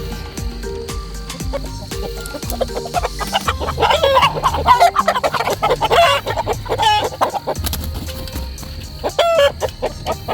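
Several chickens cluck continuously while roosters call out, a busy, overlapping flock chorus close by with repeated sharp bursts, from a flock with more roosters than ideal for its hens.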